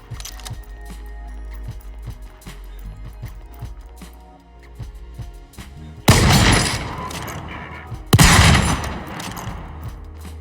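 Two loud, close sniper rifle shots from Volcanoids crack out a couple of seconds apart, each with a long rumbling tail, after a stretch of quieter clicking and mechanical game sounds.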